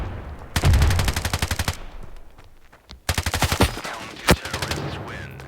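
Rapid automatic gunfire from the mobile shooter game Standoff 2, fired in two fast bursts separated by a pause, with a sharp single shot and faint in-game effects after the second burst.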